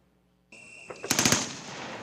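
A short burst of rapid machine-gun fire rings out during a military training exercise simulating battlefield conditions, loud and close, with several sharp shots in quick succession after a brief quiet start.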